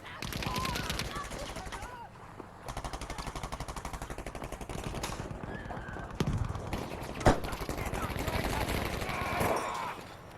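In a competitive video game match, rapid gunfire crackles in dense bursts, with a few sharper single shots standing out, while a commentator talks over the action almost the whole time.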